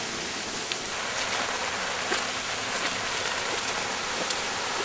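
Steady rain pours on a rainy April night, a continuous close hiss with scattered drop taps and no voices.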